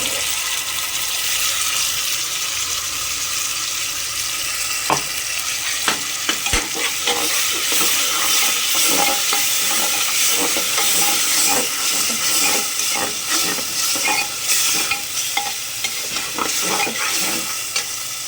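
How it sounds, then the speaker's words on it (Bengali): Spice paste of ginger, garlic, onion, green and dried chilli and whole garam masala fries with chicken in a pan, a steady loud sizzle broken by frequent scraping stirs and clicks throughout. "মশলাটা কষে নিয়ে বসিয়ে দিয়েছি"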